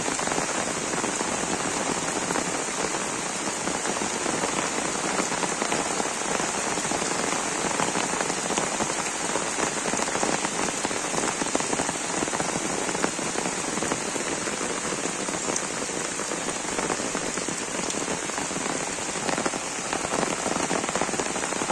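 Steady rain pours down in a Bangladeshi village, a dense, even hiss of drops hitting surfaces with no letup, fairly loud and close throughout, no voices.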